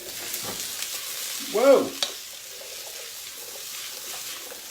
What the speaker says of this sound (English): I think I'm going to give it a little stir now.